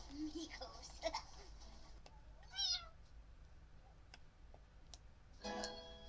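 A cat in The Sims 4 gives a short, clear meow in the middle of a quiet game scene, with faint ticking and a couple of brief game sounds around it.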